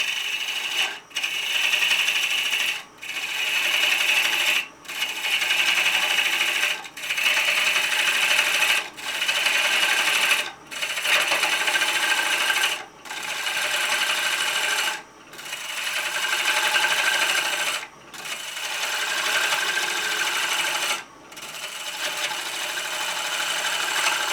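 A chisel cuts wood on a lathe while turning a square platter, giving a rough, rhythmic scraping hiss in repeated passes of a few seconds, each separated by a brief gap.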